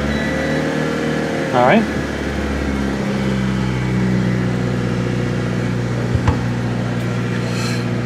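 A Honda car engine running on a P28 ECU during a VTEC wiring swap, a steady low idle hum throughout with a brief rise partway, while a person speaks briefly over it.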